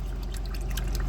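Fluid drips steadily from a leaking Ford 1.0 EcoBoost engine with a failed head gasket, a quick run of close, soft drips over a low background hum.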